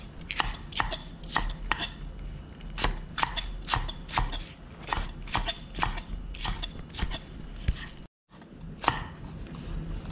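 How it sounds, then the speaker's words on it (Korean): A kitchen knife chops vegetables for Korean soybean paste soup, making quick, crisp thuds on a cutting board in uneven bursts of around twenty strokes, with a brief silent pause near the end. "쑥쑥 썰으면 될것 같고요."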